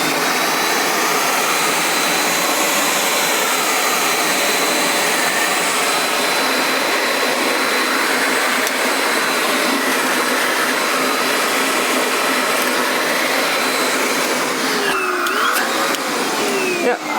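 A Black+Decker VH802 800-watt bagless vacuum cleaner and blower runs steadily and loudly throughout, a constant broadband whine and rush of air with a slight shift near the end.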